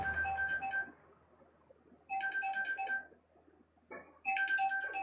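Mobile phone ringtone of bright repeating melodic tones sounds in three bursts, with short pauses between them over a quiet low hum.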